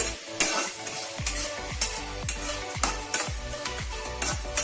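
Spice tempering with curry leaves sizzles and crackles steadily in oil in a pan while a spoon stirs and scrapes through it, giving repeated sharp knocks about every half second.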